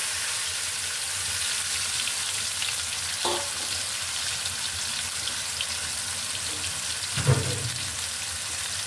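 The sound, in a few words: kalbaush fish poured into hot oil, frying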